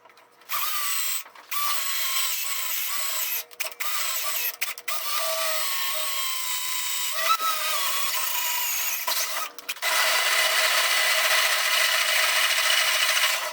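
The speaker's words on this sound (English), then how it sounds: "Now I'll just take a regular drill bit and get it started." A drill with a regular bit whines steadily at high pitch drilling into metal, briefly stopping and restarting several times, then running louder and harsher toward the end.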